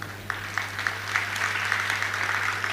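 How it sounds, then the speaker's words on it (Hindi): An audience at a devotional religious discourse claps hands in a steady, moderately loud patter of many hands, with a low constant hum beneath. "भक्ति में तालियां बजाओ।"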